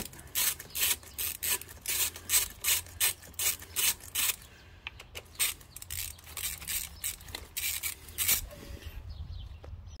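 A ratchet clicks in repeated short bursts while tightening the injector harness on a TDI 130 engine, the pawl chattering rhythmically up close with brief pauses between strokes.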